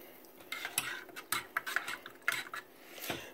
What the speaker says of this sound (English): So you do have to constantly mix this